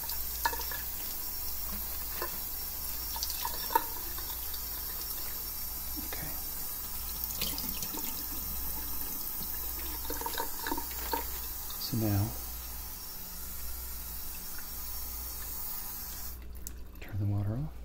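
A kitchen sink tap runs steadily while a large batch of cabbage is washed for Korean kimchi, a soft, even hiss of water close by, with faint handling sounds and a quiet voice near the end.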